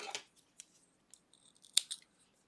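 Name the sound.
scissors cutting yarn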